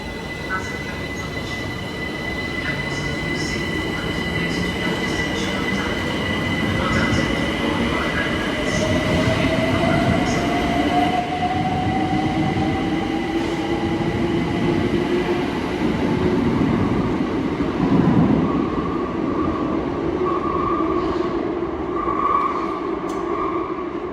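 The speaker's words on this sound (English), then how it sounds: "And there goes my Windrush line train bound for Highbury and Islington." A London Overground Windrush line train departs Dalston Junction station, its motors whining upward in pitch as it pulls away, wheels rumbling and squealing along the platform, loud and close, with a faint voice in the background.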